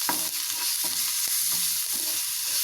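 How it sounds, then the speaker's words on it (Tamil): Onions with ginger garlic paste and salt sauté in a pan for a bread cutlet, a steady soft sizzle broken by rhythmic scraping stirs of a spatula, close and moderately quiet. "இப்போ இது எல்லாத்தையும் நல்லா வதக்கிக்கலாங்க."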